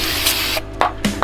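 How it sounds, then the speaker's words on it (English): Brake cleaner hisses from an aerosol can onto a front or rear brake part of a 1997 Toyota Corolla during a brake assembly replacement, a close steady spray followed by a few short bursts. "You still have to spray some brake cleaner on it"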